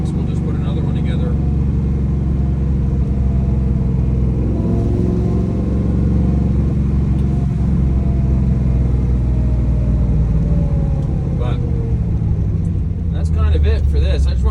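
A car drives around town with a steady, loud engine rumble and road noise running through the whole stretch, with occasional revving swells and brief higher noises near the end.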